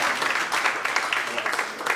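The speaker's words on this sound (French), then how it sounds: "Applaudissez pour vous-même." Brisk applause from a conference audience, fairly close and lively, a continuous patter of many hands clapping over two seconds.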